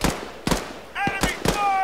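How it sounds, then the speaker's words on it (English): Enemy gunfire in ArmA 3 cracks out as several sharp, separate shots about half a second apart, loud and close, with a voice talking in between. "Enemy fire!"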